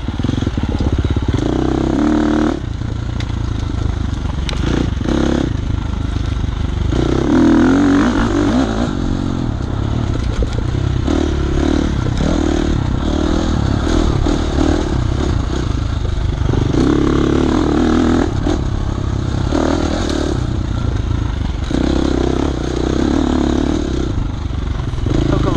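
An off-road motorcycle on an OCCRA trail course at Discoveryland, the engine revving and surging in bursts over clattering terrain, close and loud, with a rider's voice speaking over it at times.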